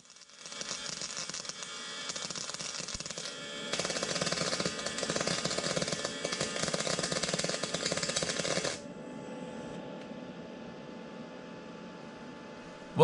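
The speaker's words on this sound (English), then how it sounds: "we'll crank this thing all the way up and try some fat welds on this 3/8 inch plate" A MIG welder cranked to full power lays heavy welds on 3/8 inch steel plate, giving a harsh, crackling buzz that swells louder in the middle, then drops to a quieter hiss.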